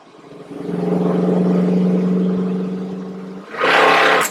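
A car fitted with Holley Sniper EFI accelerates hard at full throttle, the engine droning loud and steady as it pulls, then surging sharply again near the end after a brief dip.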